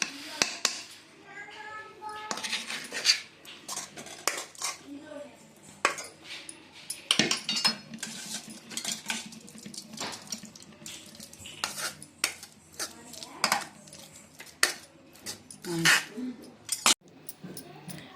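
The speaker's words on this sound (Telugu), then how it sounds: "జ్యూస్ అంటే ఈ ముక్కలన్నిటిని మనం ఇప్పుడు మెదిపితే వస్తుంది" Boiled raw mango pieces being mashed in a metal pot with a ladle, repeated clanking and scraping knocks in an uneven rhythm, with a voice talking over part of it.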